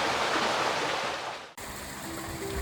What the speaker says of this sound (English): stream into smooth bowls and waterfalls to form one of Zagori's most striking swimming spots